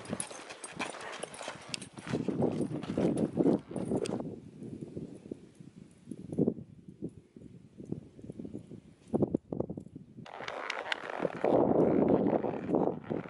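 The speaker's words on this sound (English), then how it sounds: "Ladies and gentlemen, your pilot has arrived. This is Queenberry, Peggy's beautiful stallion." A stallion's hooves clip-clop outdoors in uneven bursts of moderately close steps, with pauses and wind and rustling noise in between.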